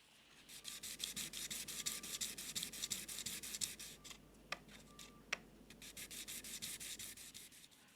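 A block plane part being polished on abrasive grits, a steady dry rasping rub that runs continuously and close, with a couple of brief sharper clicks midway.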